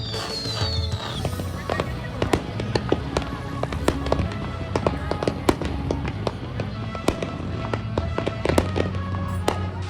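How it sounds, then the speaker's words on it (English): Fireworks crackle and pop continuously at an outdoor Star Wars night market, a dense barrage of sharp bangs and sizzling crackles over low rumbling booms, with crowd noise faintly underneath. "now it's time for everybody's favorite thing, fireworks on a camera"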